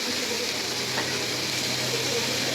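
Spices with ginger garlic paste and turmeric fry in a pan while being stirred, a loud continuous sizzle and hiss that holds steady throughout, close up.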